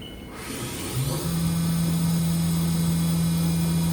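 The spindle of a 2011 HAAS VF-3YT CNC vertical machining center ramps up and then holds at 10,000 RPM. A loud, steady, pure whine rises quickly and sustains over the motor and fan hum.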